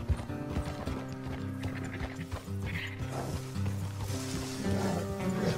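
Horse hooves clip-clop in Red Dead Redemption 2, a steady rhythmic trot layered over the game's music and low mechanical noises, with a faint whinny hinted near the end.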